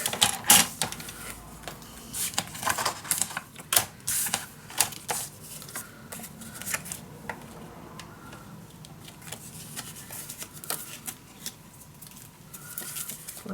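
Paper being cut along a marked line for a steampunk dos-a-dos mini album, heard as a close series of crisp, irregular snips and rustles with no talking.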